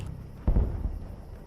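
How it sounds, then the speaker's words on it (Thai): A single gunshot rings out in Minecraft during a zombie-invasion episode, a sudden boomy burst that decays over about half a second against a quiet background. "เมื่อกี้มีเสียงปืน"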